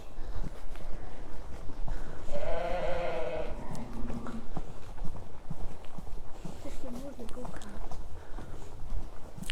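Sheep bleat among ewes and twin lambs in a lambing shed at Easter Craigduckie, including a black sheep and a small blue Texel. A clear, wavering bleat rises near the middle over steady barn noise and shuffling, with people talking throughout.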